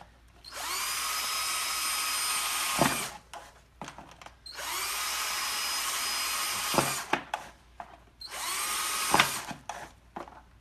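A power drill whirs in three sustained bursts of a few seconds each, with brief clicks and pauses between runs, close by.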